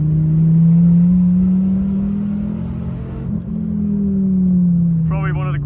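A Dodge Viper ACR engine hums loudly and steadily from inside the car on a mountain road, its low tone swelling and dipping slightly with throttle, and a brief voice is heard near the end.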